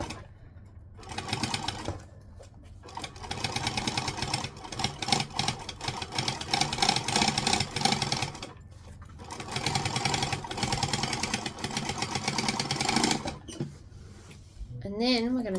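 A domestic sewing machine stitching a line of piping without a piping foot, its motor whirring in steady rapid bursts that start and stop several times, with a voice talking over it.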